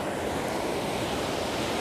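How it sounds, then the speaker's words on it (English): Sea waves wash steadily onto a pebbly, sandy beach in a continuous broad rush, with some wind noise and no talking. "As you can tell, we're at the beach."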